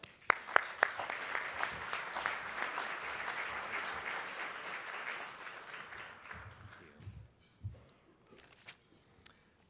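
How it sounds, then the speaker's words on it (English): A luncheon audience at a Hispanic business event claps loudly and steadily for several seconds, then the applause fades out into a few scattered claps and faint room noise. "Please give him a good round of applause."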